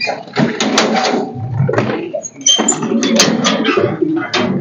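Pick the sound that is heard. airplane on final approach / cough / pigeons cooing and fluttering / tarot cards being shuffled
pigeons cooing and fluttering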